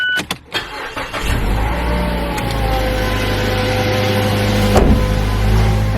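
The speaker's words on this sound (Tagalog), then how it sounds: "let's turn the car on." A car starts after a few clicks and thumps, the engine catching and settling into a steady low idle up close, with a brief mechanical knock midway and no talk over it.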